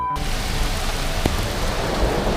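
Steady heavy rain pours down outdoors in Florida, a dense continuous hiss of drops hitting surfaces, fairly loud and close with no voices.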